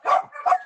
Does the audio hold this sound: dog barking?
yes